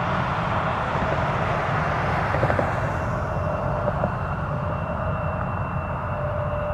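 An Embraer E175 regional jet on its takeoff roll from runway 23 at Toronto Pearson, a loud, steady, broadband engine roar that holds constant throughout with no voices.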